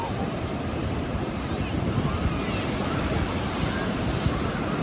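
Pacific Ocean waves breaking on a Southern California beach in San Diego, heard as a steady, broad wash of surf with wind noise across the microphone and no clear pauses.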